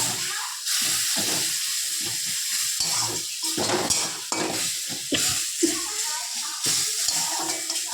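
Bengali-style masala spices frying in oil with a splash of water, a steady broadband sizzle and hiss with repeated scraping stirs of a spoon against the pan throughout.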